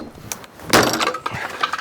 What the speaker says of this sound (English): he's kicking fences in and smashing sheds up